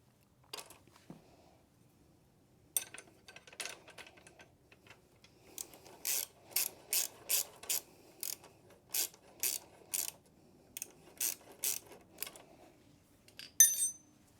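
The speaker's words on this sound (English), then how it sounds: "you will need maybe a box wrench to hold the other side while you tighten this side down" Ratcheting wrench tightens a bolt on an Evotech front axle slider fitted to a Yamaha MT10 motorcycle, giving bursts of quick pawl clicks in a steady rhythm, close and fairly clear, with a few lighter metal taps before and a sharp clank at the end.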